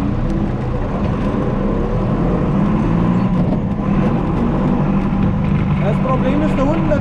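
A farm tractor, a Bulldog used for mulching meadows, revs and accelerates across the road at a traffic light, a continuous loud engine rumble with low voices faintly underneath.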